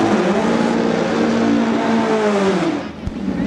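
A dragster races down a drag strip, its loud engine roaring close and steady with a falling pitch as it pulls away, fading slightly at the end.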